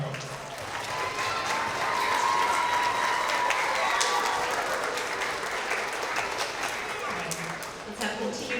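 Sustained applause from a school assembly audience honoring first grade award winners at a spring K–2 ceremony, steady dense clapping filling the hall from start to finish.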